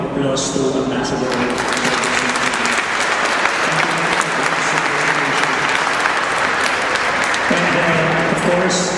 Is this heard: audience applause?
yes